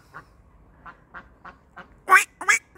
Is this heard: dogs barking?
no